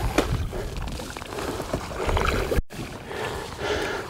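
A paddle working the water from a Crescent Kayaks SUP+ kayak fitted with a seat riser, with splashy dips and trickling drips close by over wind and flowing water, a brief dropout midway.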